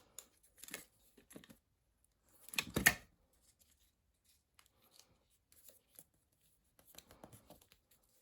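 Paper corners are folded for a Graphic 45 tag and pocket album, making soft crinkles and creases in short scattered bursts, with one louder rustle, close and otherwise quiet.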